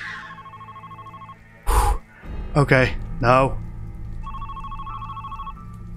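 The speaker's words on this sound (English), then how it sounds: "I don't think I'm supposed to answer a phone call." A telephone rings in The Midnight Game, a horror video game, sounding as two bursts of a steady electronic ring, the first at the start and the second near the end, with a voice speaking between them.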